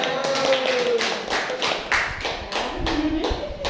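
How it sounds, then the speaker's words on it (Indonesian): Classroom of teachers clapping at the close of a positive-culture dissemination session, a loose burst of hand claps with some voices mixed in. "Terima kasih, tepuk tangan."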